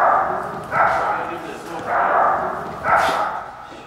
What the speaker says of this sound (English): That dog is a f***ing nuisance.